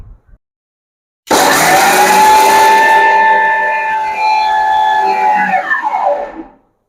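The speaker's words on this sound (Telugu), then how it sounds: "ఇప్పుడు దీన్ని మిక్సీ పట్టుకుందామండి" A mixer grinder whirs loudly for about five seconds, grinding tamarind leaf powder ingredients with peanuts and salt: a steady high whine with a rushing roar that drops in pitch as the motor winds down at the end.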